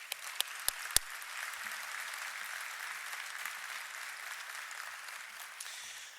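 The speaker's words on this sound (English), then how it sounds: "join me in one round of a final applause" Steady, dense applause from a large crowd at an economic club luncheon, sustained and even throughout, with a few sharp claps standing out at the start.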